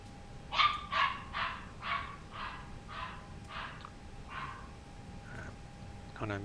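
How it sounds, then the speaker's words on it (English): A pet dog barks repeatedly in a room, a regular series of about nine moderate barks spaced roughly half a second apart, with a faint steady tone underneath. "My dog keeps barking."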